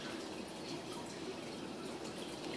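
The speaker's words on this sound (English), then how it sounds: "it's pouring" Heavy rain pours down outside in a steady, even wash of hiss and patter that stays constant throughout.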